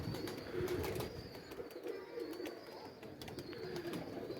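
An Imamdeen pigeon held in the hand coos softly in a low, repeated throaty murmur, close by and continuous with no voices.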